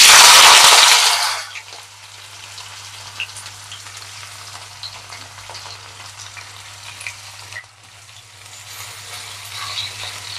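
Onion and cumin seeds frying in a pan: a loud initial sizzle as they hit the hot oil, then a quieter steady crackle and sputter under a low hum, with light stirring.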